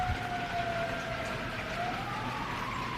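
An emergency vehicle siren wails outdoors during a storm, a steady rising and falling tone over a constant wash of rain-like background noise.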